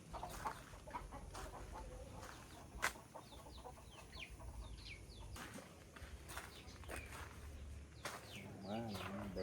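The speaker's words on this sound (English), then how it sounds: "There were a few chickens walking around outside." Chickens clucking as they walk around outside a rural house in Vietnam, faint intermittent calls among background noise, with a voice talking over them.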